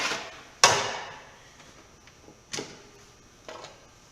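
An impact screwdriver is struck with a hammer during restoration work on a Peterbilt 352 cabover: three sharp metallic blows, the first loudest, spaced apart with ringing decay.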